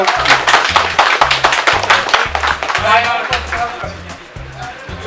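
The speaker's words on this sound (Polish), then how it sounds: "Brawa dla zwycięzców" Applause for the winners at an award ceremony, crowd clapping steadily throughout, with a rhythmic low thumping beat and voices chattering underneath.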